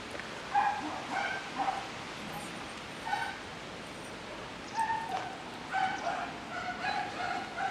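Several puppies running loose yap and bark in short, high, repeated bursts, with whimpering yips in between, close by and fairly loud.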